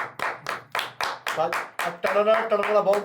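Repeated hand clapping at a casual Truth and Dare tea-time chat, a steady run of sharp claps up close, with voices talking alongside the later claps.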